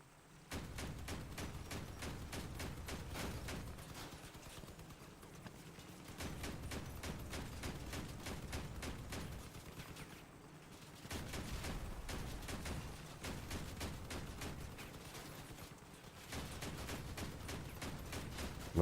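Rapid gunfire striking a combat vehicle in the game Crossout, sounding as dense, steady bursts of rattling shots that come in long stretches separated by brief pauses.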